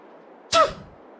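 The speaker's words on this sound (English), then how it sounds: "I'm going to sneeze." A single sharp human sneeze, close and loud, bursting out over a faint steady background hum and fading quickly.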